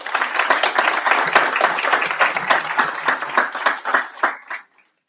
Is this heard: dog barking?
no